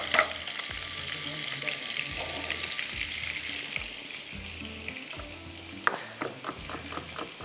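Butter sizzles and fries in a karahi pan while chicken karahi masala is cooked, a dense steady crackle with rhythmic stirring scrapes and a sharp clink near the end, no voices.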